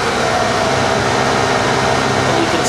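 An ambulance patient-compartment ventilation fan runs on its high speed setting, a loud, steady, continuous whooshing blow of air with no variation across the short span.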